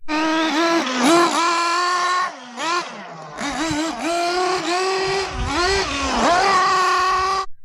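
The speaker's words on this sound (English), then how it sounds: "Speaking of the noise from the engine, well, it's loud." A loud, high-pitched nitro engine of a Kyosho Inferno EVO 3.0 RC car revs up and down repeatedly, its whine rising and falling with a brief dip midway, no voices.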